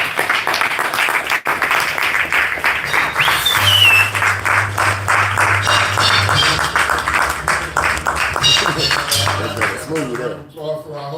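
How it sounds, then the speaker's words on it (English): An open mic audience in Atlanta claps and cheers for the host, sustained crowd applause lasting several seconds with voices and music-like tones mixed in before it fades toward the end. "Applause for our host."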